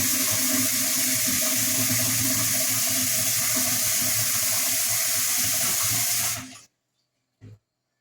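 Tap water pours steadily and loudly into a pot being filled for cooking semiya, a continuous close hiss that cuts off sharply near the end, followed by silence and one brief knock.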